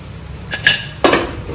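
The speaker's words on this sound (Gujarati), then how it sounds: "આ રીતે કુકરનું ઢાંકણ ઉપર મૂકીને" A metal pressure cooker lid is set on top of the cooker while a Kathiyawadi whole-onion curry cooks, giving three sharp, close metallic clanks in quick succession over a quiet background.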